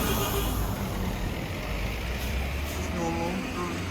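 Passing traffic in Brazil rumbles steadily at moderate distance, a broad low roar of road vehicles with faint higher squeaks and tones near the end, and a voice murmuring in the background.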